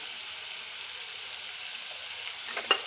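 Turmeric hits hot oil in a pan where ingredients have been browned, giving a steady, even sizzling hiss throughout, with a brief clink of a utensil near the end.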